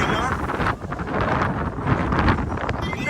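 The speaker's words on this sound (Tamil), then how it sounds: "பயங்கரமான அலையும் காற்றும் வேற லெவலில் இருக்கும்" Strong sea wind buffets the microphone on Dhanushkodi beach at Arichal Munai, a loud continuous roaring gust with surf wash underneath and steady rushing noise throughout.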